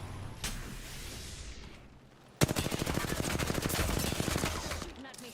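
Rapid automatic gunfire in Apex Legends: a sharp burst of fast, evenly spaced shots that keeps rattling for about three seconds after a quieter stretch, loud and close.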